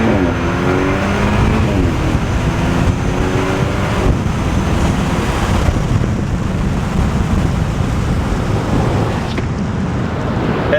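A 2013 BMW F30 328i accelerates hard with the windows down, its steady, loud engine drone and rising revs mixed with heavy wind rush throughout, no talking.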